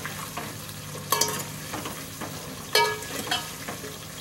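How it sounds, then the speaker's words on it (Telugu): Drumstick and okra pieces sizzle in hot tempering oil for a lentil stew, a continuous close frying crackle broken by a few sharp stirring scrapes of a utensil against the pan. "ఇక మునక్కాడ ముక్కలు వేసుకుందాం, బెండకాయ ముక్కలు కూడా వేసేసుకుందామండి."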